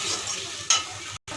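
Spices sautéing in a pan for prawn bhapa with coconut and poppy seed paste, a soft steady sizzle with stirring scrapes, one brighter clink near the middle and a brief drop-out near the end.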